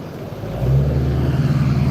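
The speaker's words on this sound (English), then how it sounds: "that's his truck making that noise." A truck's engine rumbles in a steady low drone that grows louder partway through and holds an even, throaty hum with no voices over it.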